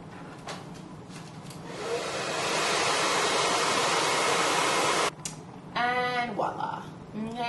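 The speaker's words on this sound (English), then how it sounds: "blow on it with some cool air" A blow dryer on a cool setting blows steadily on a glueless layered bob hair install, a loud continuous rush of air that cuts off sharply, followed by brief talk.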